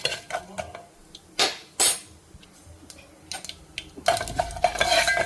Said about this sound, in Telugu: ఈ పోపు వేగింది ఇప్పుడు మంచిగా చిట్చిట అంటుంది